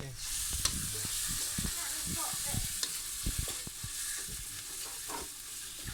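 Pad thai with small frogs being stir-fried, a constant loud sizzle broken by repeated scraping and tossing strokes of a spatula in the pan.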